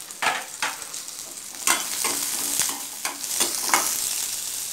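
Garlic, shallots, black pepper and cumin sauté in a pan for bitter gourd kuzhambu, a constant sizzle broken by repeated scraping strokes of a spoon, close and fairly loud, with no voices.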